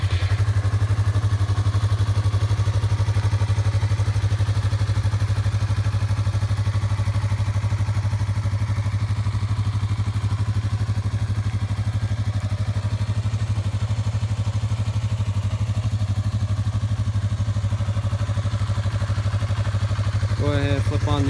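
2017 Yamaha YZF-R3 motorcycle engine running steadily at idle close by, a constant loud drone with a brief blip near the end.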